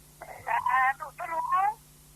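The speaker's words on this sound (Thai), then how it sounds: "พอดีมีโทรศัพท์มาโทรศัพท์ครับ" A telephone rings with an incoming call during a Thai Buddhist dharma broadcast: a close, melodic ringtone in two short tonal bursts over a faint steady hum.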